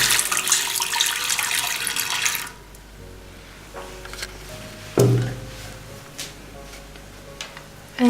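Liquid is poured into a dough mixture during baking, a splashy stream for a couple of seconds, then quiet with a few soft knocks and thumps.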